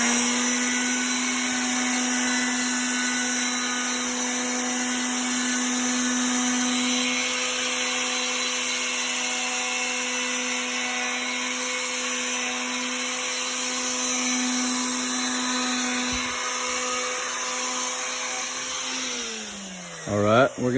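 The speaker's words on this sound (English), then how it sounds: "we're going to use a palm sander, and I got a 150 grit sandpaper on here, and we're going to sand this thing down just like this" A palm sander fitted with 150 grit sandpaper works over an old gate, a steady loud motor whine with a constant buzzing hum that holds throughout, then winds down at the very end.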